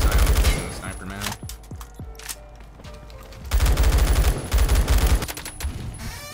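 G36 rifle gunfire in the Roblox game Phantom Forces: loud, dense automatic bursts open the stretch, a few separate sharp shots follow, then another long, heavy volley of rapid fire.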